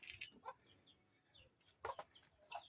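Farm poultry fed in the afternoon, with turkeys and ducks present; several bursts of clucking and fowl calls sound close by, with quieter chirps between them.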